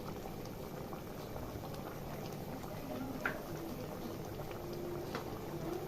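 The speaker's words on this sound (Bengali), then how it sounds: "সেদ্ধ হয়ে গেছে ডালগুলো" Lentils for dal bubble at a low, steady boil in a pot, a continuous soft simmering burble without talk.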